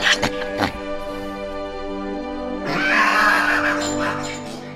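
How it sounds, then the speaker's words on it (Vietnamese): In a cartoon, pigs at a pig slaughterhouse squeal long, mournful, shrill cries. Harsh, rising squeals follow short sharp bursts, loud and close over a steady tonal background. "nghe trong một lò chiếc heo truyền đến tiếng heo kêu rống rất bi ai"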